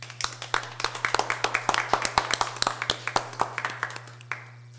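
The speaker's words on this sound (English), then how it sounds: "We want to do a big round of applause and congratulations to all of our first place winners." A crowd at an essay awards ceremony claps for first place winners, a lively burst of many hands that fades out after several seconds, with no talking.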